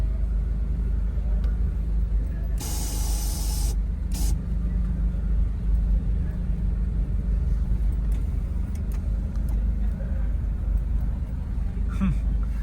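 At a Cars & Coffee enthusiast meetup in Bangalore, car exhaust rumbles low and continuous with an echo, joined by a brief hissing burst early on.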